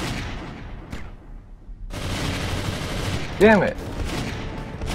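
Gunfire rings out in the first-person shooter Goldeneye Source, with several close bursts of shots broken by short gaps. Players talk and exclaim over the shooting.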